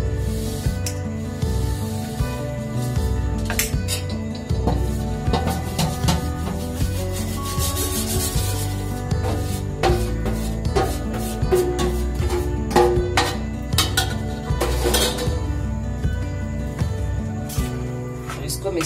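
Coconut and chopped dry fruits are stirred together in a bowl for a sweet samosa filling, a steady close scraping and rubbing that continues without pause.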